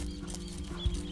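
Racehorse hooves clip-clopping at a racehorse breeding farm in Uruguay, a few soft, near thuds over a low steady background, with no voices.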